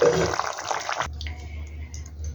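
A fish curry with cauliflower, potato and green chillies boils in a pot, a loud bubbling rush for about a second before it cuts to a quiet low hum.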